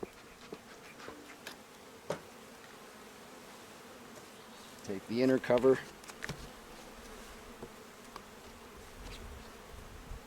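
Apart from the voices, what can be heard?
honey bees buzzing around a hive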